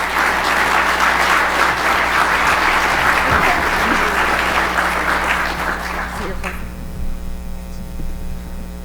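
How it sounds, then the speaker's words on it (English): A crowd at a government acquisition conference applauds loudly for several seconds, then the clapping stops, leaving a low steady electrical hum. "Please give him another round of applause"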